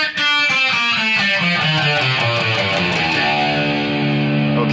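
Heavily distorted electric guitar runs through a tricky, exotic-sounding solo section around E, quick descending note runs ringing loud and continuous with no voices.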